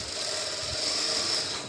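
Sewing machine stitching a kameez seam, running a steady fast mechanical whir with a light rattling clatter throughout, close and moderately quiet, no talking.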